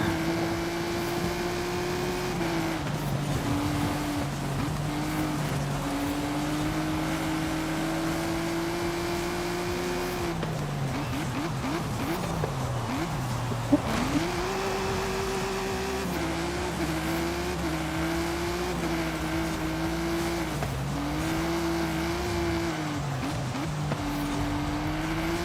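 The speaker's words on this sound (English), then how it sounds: "The Challenger, the 440 stroker, it's like 1100 horsepower motor" A Dodge Challenger with a 440 stroker engine of roughly 1100 horsepower races in Forza Horizon 5, its loud engine drone rising and falling steadily through gear shifts, with tire noise under it and no talking.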